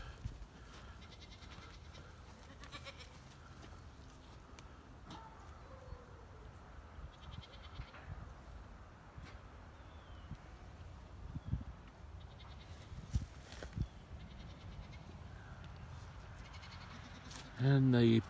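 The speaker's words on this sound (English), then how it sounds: "And these are some of the goats." Goats bleat faintly now and then over quiet outdoor farm ambience, with a louder, closer bleat at the very end.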